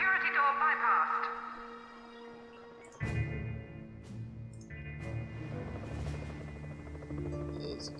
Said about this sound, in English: Where's this chopper?